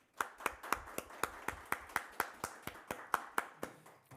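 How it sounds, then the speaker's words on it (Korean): A single pair of hands claps in a steady rhythm, about eighteen crisp close claps in a church worship service after a call to thank the worship team, with no talking. "우리 찬양팀들에게 박수를 한번 좀"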